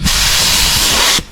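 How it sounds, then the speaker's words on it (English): A spray gun, readied for painting panels during a DIY build of a Hino motorhome bus, hisses at very low pressure in one steady, loud, close burst lasting just over a second before cutting off abruptly. "We're just going to spray it at a very low pressure."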